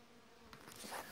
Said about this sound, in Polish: Słyszę gdzieś tutaj te pszczoły, ale one dopiero tu zaczynają sobie latać.